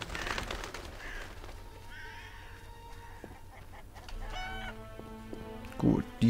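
Geese in The Witcher 1 video game, a flock honking and clucking in short repeated calls at mid distance, layered over ambient game background sound.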